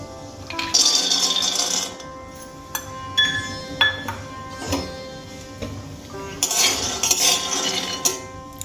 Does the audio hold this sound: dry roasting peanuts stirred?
yes